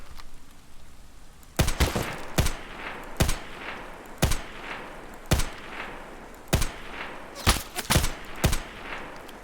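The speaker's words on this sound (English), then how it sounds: "I gotta get used to the shooting in this game" FAL rifle fire in a military shooter game: a run of about a dozen sharp, loud shots in irregular single and double bursts after a quiet start, with no talking.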